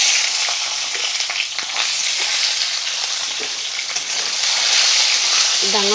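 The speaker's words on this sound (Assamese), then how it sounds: "তাৰপিছতে মই এইখিনি ডাঙৰ পিঁয়াজখিনি ভাজি ল'ম" Large onion pieces frying in hot oil in a pan with cinnamon, giving a steady loud sizzle and crackle throughout, with a brief voice heard near the end.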